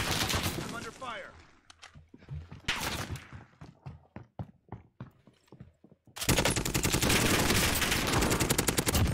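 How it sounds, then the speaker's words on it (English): Gunfire in the Call of Duty Warzone video game: scattered shots and bursts amid game effects and voices, then a sustained, loud rapid-fire burst of automatic fire dominating the final few seconds. "I'm under fire."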